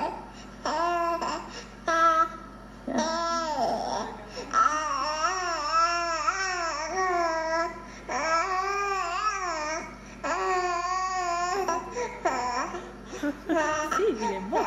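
A baby babbles and sings in a sustained, melodic string of voiced coos and wavering tones, close and fairly loud, with a few brief pauses between phrases.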